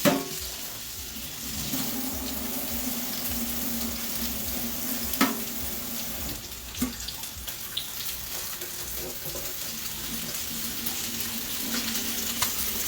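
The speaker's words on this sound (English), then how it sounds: "Rinse and drain the cashews." Tap water runs steadily over cashews being rinsed in a kitchen, a soft continuous hiss with occasional clinks and knocks from the bowl or sieve.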